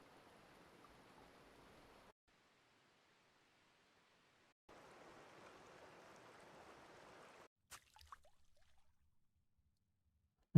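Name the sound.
running water stream loop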